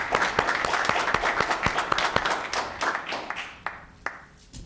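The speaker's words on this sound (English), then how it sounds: "Please give a round of applause for Ms. Erica Goss and Poetry Month." Applause from a town council meeting audience in Los Gatos, a mix of distinct individual claps in an irregular patter that thins out toward the end into a few scattered final claps.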